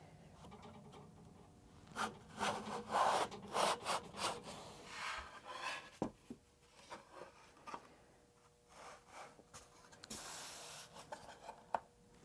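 Quiet, close wooden scraping comes in a series of short strokes of a hand plane sliding across a quilted maple guitar top on a shooting board, with soft knocks and pauses between passes.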